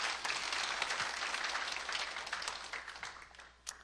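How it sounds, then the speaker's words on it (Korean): A church congregation applauds its choir, producing a fairly soft, roomy spread of many hands clapping continuously, heard from some distance and gradually easing off. "우리 권사의 찬양대에 다시 한번 우리 격려의 박수 드렸으면 좋겠습니다"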